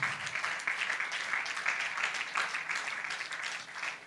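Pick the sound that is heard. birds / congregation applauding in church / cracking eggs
congregation applauding in church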